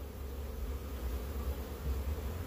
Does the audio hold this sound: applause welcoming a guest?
no